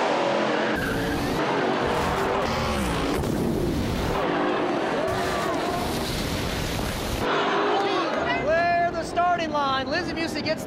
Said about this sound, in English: Lizzy Musi gets the win, clear the starting line, as Boddie gets into the wall.